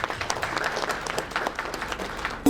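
Audience applause at a conference, a steady wash of many hands clapping at moderate level, ending with a sharper burst near the close.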